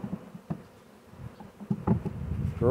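Honey bees from a newly caught swarm fanning up close after installation in a hive, a low, quiet hum broken by soft rustles and light knocks, getting a little louder toward the end.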